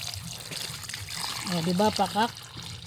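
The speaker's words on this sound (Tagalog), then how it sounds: "Lagyan natin siya ng tubig." Water poured into a pot of sinigang na galunggong, a continuous trickling splash that runs under a person talking close by.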